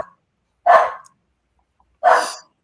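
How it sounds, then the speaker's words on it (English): A dog gives two sharp, loud barks about a second and a half apart, close by, with silence between them. "I'm gonna try to scream through the dogs. They're gonna go for probably about a minute now."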